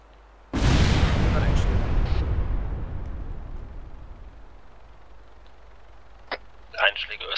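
Artillery rounds fire with a sudden loud broadband blast that rolls and rumbles away for several seconds, then a few sharper distant cracks of impacts follow near the end.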